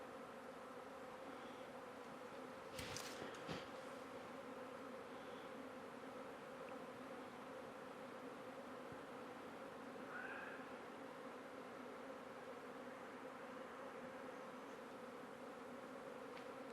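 A honeybee swarm buzzing steadily at a hive entrance outdoors, a continuous low drone that holds at an even level throughout, with a few brief knocks and no talking.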